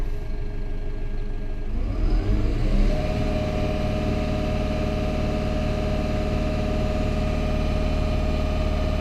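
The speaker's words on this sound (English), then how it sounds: "I'm going to rev it wide open and I'm going to shut up." Engine revved to wide-open throttle, climbing from idle to a loud, steady high-rpm roar that holds for several seconds with no talking.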